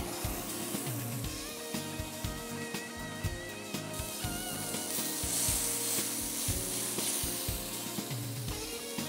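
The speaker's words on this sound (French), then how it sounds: "je vais poêler ce steak" A beef steak sizzles and fries in a hot pan, a steady dense crackle running throughout with some clatter of cookware over it, fairly close and continuous with no talking.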